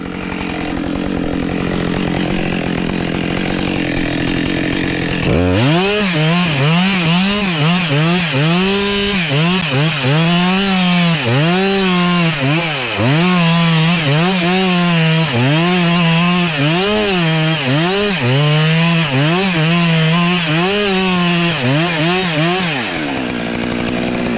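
A chainsaw roars close and loud through a split tree, its engine pitch rising and falling in repeated bogging waves as it bites into the wood, continuous for about twenty seconds before easing off at the end.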